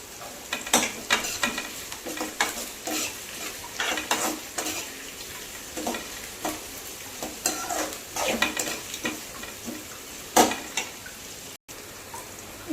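Curry leaves crackle and spit in hot oil for Kumbakonam kadappa, giving a loud, busy sizzle with repeated stirring scrapes and bursts throughout.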